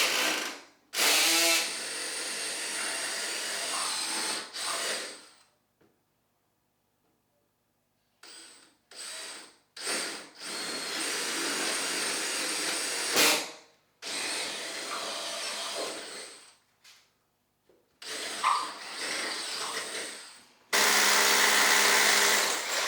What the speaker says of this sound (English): we can go to the hammer drill for the cement block part